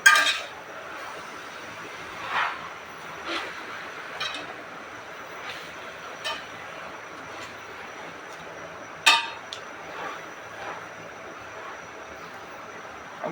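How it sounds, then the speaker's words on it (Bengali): Jute leaves stirred in a frying pan, with a scattering of sharp metallic clinks and scrapes from the spatula over a quiet, steady background hiss. "এখন সামান্য একটু নাড়া দিয়ে দেবো।"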